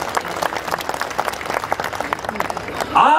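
Audience clapping at a Hindi comedy poetry gathering (hasya kavi sammelan), a dense, steady patter of many hands that runs the whole stretch at moderate loudness, with some voices mixed in near the end.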